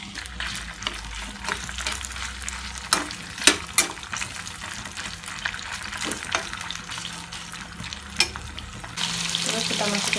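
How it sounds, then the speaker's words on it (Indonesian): Spice paste and shrimp sizzle and fry in a pan, a continuous crackling hiss with occasional stirring scrapes and clinks, moderately close and without talk. "Lalu kita tumis bareng sama udangnya."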